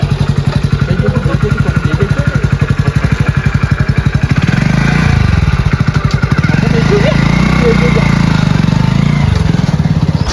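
A motorcycle engine runs loud and close with a rapid, steady thumping beat throughout, its tone rising and falling slightly as it revs, with no talk over it.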